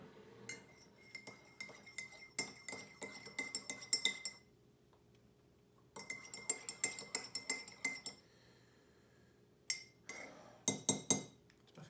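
A metal spoon clinks rapidly against a mug while stirring honey into piping hot coffee, in two bursts of bright ringing taps separated by a pause, then a final short flurry of clinks, close and clear with no talking.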